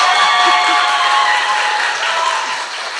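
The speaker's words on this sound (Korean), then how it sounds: "박수!" Loud, dense applause from an audience at a Korean political interview recording goes on without a break for about three seconds, a crowd clapping hard in one continuous wash.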